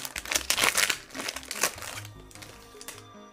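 A Pokémon card booster pack wrapper crinkles loudly up close as it is torn open, a run of sharp rustling bursts that fades toward the end.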